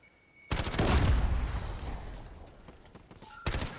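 A burst of gunfire in a hardcore match of a shooting video game erupts loudly after a quiet moment, a rapid volley that rings out and slowly decays, with a shorter second volley near the end.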